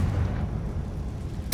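A Confringo blasting spell detonates in Hogwarts Legacy, a deep rumbling low boom that rolls on before a sharp bright burst hits at the very end, loud and close with no talk over it.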